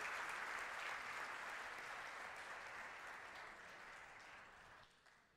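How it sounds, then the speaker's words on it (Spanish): Steady applause from a crowd at a board of directors' inauguration ceremony fills the space, holding strong before gradually thinning and fading toward the end. "Por favor, un aplauso para él."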